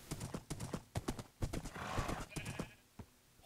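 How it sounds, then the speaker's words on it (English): Horse hooves clip-clop in a quick, steady rhythm in Minecraft, broken by a whinny and a brief neigh near the middle, close and fairly loud under a light game backdrop. "Oh wow, that's a nice horse."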